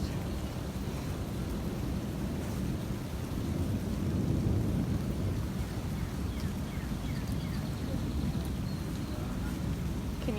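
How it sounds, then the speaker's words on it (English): Heavy rain and thunder in a storm beside Lady Bird Lake, with fast-moving water, form a loud, steady roar that rumbles on without a break. "It's raining, it's thundering, the water's moving pretty fast."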